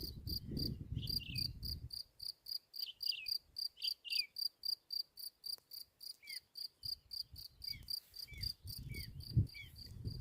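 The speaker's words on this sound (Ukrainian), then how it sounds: "Коник стрибунець десь сховався в кукурузці." A grasshopper chirps from a corn field in midsummer in a steady pulsing rhythm, repeated rapid bursts, with a few faint bird calls and light rustling in the background.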